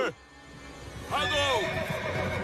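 A horse neighs in an animated chase scene, a loud, wavering whinny that rises and falls for about a second after a brief, fainter opening, set against a busy background.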